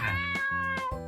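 A pet cat in a pixel-art housekeeping game lets out a quick pair of short, close, clear meows while being petted.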